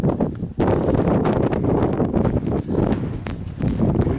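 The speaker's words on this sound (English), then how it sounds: "we've had wind. It's windy right home." Strong mountain wind on a ridge of Quandary Peak blasts loudly into the microphone in heavy, continuous gusts, rumbling and buffeting with brief dips between surges.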